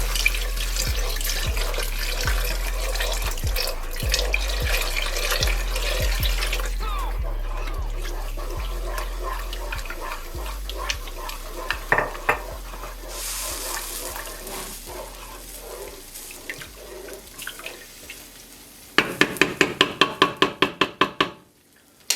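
Clam stock pours in a steady, continuous stream into a pot of clam chowder cooking on the stove, followed near the end by a short run of quick, sharp clicks.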